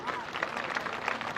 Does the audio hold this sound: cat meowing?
no